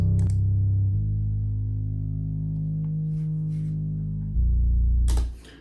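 Heavy synth bass from the FL Studio GMS Nails preset with effects on, a loud sustained low tone that shifts pitch a couple of times and ends with a bright noisy burst before cutting off, no voices.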